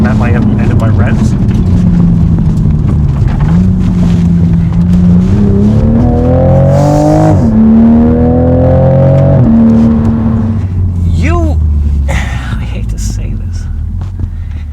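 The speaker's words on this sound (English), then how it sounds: "the exhaust note I'm not used to, so I can't tell where I'm at my end of my revs." A new Toyota Supra's exhaust rises and falls in pitch as the engine revs through the gears while driving, loud and close inside the cabin, with a voice speaking over it.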